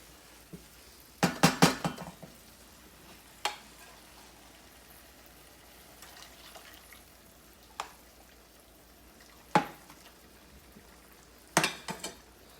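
Risotto cooking in a pan, with sharp clinks and scrapes of a utensil against the pan in scattered bursts, a cluster early on then isolated knocks, over a faint low background and no talk.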